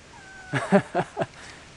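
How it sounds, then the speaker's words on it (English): A cat up in a tree meows four times in quick, evenly spaced calls, fairly clear and a little distant, over quiet background hiss. "I left my cat out, now she's up in a tree. Hear her up there?"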